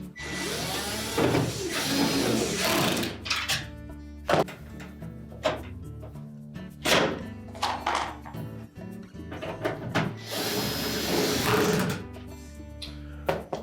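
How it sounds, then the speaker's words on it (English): Retaining screws are driven into the blower fan housing of a Whirlpool dryer during a repair. Loud whirring bursts from a powered driver come at the start and near the end, with clanks and rattles of handling in between. "Install the retaining screws."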